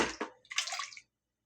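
Canned tomatoes glug and splash as they pour from the can into a cooking pot for a pasta dish, a short wet burst of about a second that then cuts to silence.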